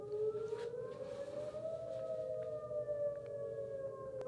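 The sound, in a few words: tornado warning siren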